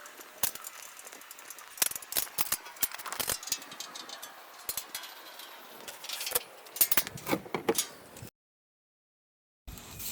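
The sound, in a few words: 7/16 wrench tightening bolts on Shopsmith Mark 7 legs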